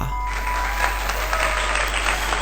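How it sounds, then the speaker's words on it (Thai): Applause from a crowd greets a Pokémon, an even, steady wash of clapping that stays at one level throughout with no voices over it. "ขอเสียงปรบมือต้อนรับให้กับโปเกมอนตัวแรกในซีซั่นที่ 2 นากว่า"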